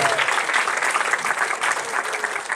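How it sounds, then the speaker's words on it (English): Loud, dense audience applause at a YouTube business talk event, a steady wash of many hands clapping for the full stretch with no voices standing out. "Can I get another round of applause for Margaret and Stefan"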